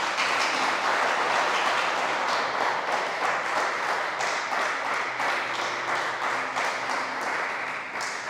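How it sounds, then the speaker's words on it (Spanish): A church congregation breaks into loud, sustained applause during a service, a dense wash of many hands clapping together with no talk over it. "Usted puede darle un fuerte aplauso al Señor por eso."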